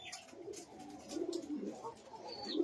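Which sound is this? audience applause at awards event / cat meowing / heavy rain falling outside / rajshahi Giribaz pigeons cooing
rajshahi Giribaz pigeons cooing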